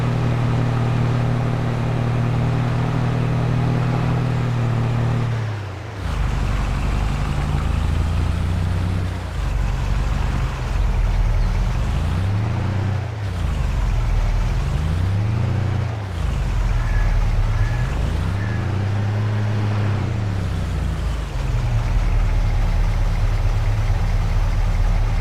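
A sugar beet harvester engine in Farming Simulator 22 drones steadily and loudly throughout, its pitch dipping and rising in several slow, even swells, with no talking.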